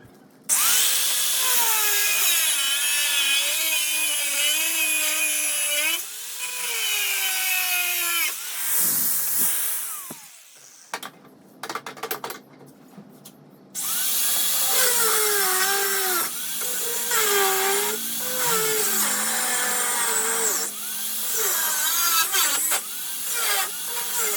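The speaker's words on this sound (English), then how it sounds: "So we will cut it 4 inches till here on both sides." A power tool cuts through metal bonnet hinges on a Mahindra Scorpio during a tie member install, a loud whining grind with shifting pitch, broken by a short pause and scattered knocks before the cutting resumes.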